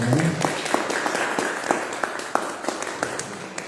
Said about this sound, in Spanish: si son tan amables de regalarle un fuerte aplauso al profesor Ramsés Carvajal